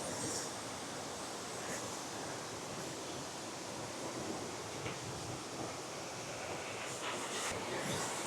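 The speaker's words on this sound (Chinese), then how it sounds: "我们这里有一个很大的瀑布" A large waterfall pours down a steep cliff face in Guizhou, China, making a constant broad roar of falling water that holds steady throughout with no voices.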